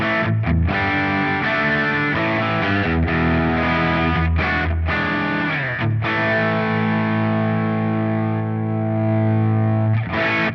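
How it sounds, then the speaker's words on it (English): An electric guitar runs through a Hotone Ampero Mini modelling a driven Matchless Chieftain 212 combo, ringing out loud, gritty chords with short breaks between strums and a long sustained chord near the end, with no voices. "This is the Matchless Chieftain 212 combo driven sound."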